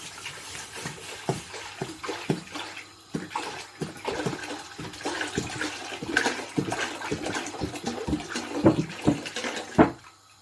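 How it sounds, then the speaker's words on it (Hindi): About four kilograms of milk poured into a pot for rice kheer gives a faint, irregular splashing and gurgling of liquid with soft sloshes and small knocks throughout, and no talking. "ये हमने दूध डाल दिया। 4 केजी दूध।"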